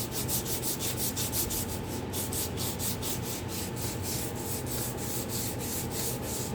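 A metal part on an old Allis-Chalmers WD45 tractor being sanded with emery cloth, a rapid, regular rasping scrub of quick back-and-forth strokes, close and continuous with no talk.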